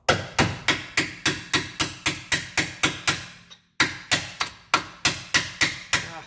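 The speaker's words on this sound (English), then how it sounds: "Then use a punch to finish it off." A hammer strikes a punch to drive a bolt out of the rear lower control arm of a 2013 Nissan Altima. Rapid, steady metallic blows ring out close by, with one brief pause midway and no voices.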